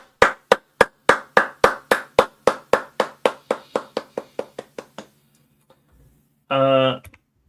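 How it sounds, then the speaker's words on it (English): Steady rhythmic handclaps, about twenty evenly spaced claps slowing and fading over five seconds, for the winner of an online marble race stream, followed by a brief burst of synthetic fanfare-like tone. "let's give them another clap"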